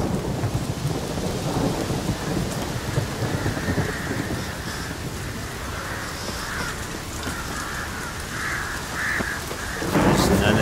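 A storm of heavy, continuous rain with rolling thunder rumbles low beneath the downpour, and faint bird caws rise briefly over the steady wash.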